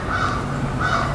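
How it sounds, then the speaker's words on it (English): Crows calling outdoors in the early morning, two harsh caws spaced about half a second apart, fairly loud and close with no talk. "So if you hear crows, that's the way it is here."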